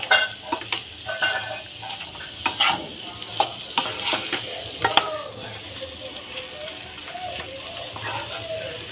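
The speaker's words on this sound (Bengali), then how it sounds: "ঘি দিয়ে একটু নাড়িয়ে চাড়িয়ে নেব" Dalia pulao being stirred with ghee in a hot pan, a spoon scraping and clinking against the metal in irregular strokes over a soft steady sizzle.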